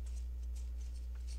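Scissors cutting a large piece of fabric on a big table, a series of soft, quick snips against a steady low hum.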